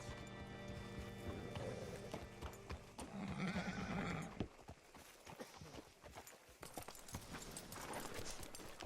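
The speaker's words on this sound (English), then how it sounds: "Hitch your horse up here." Horse hooves clip-clop steadily alongside a horse's whinny, set against game-like background music and ambient noise, with no talking, in the game Red Dead Redemption 2.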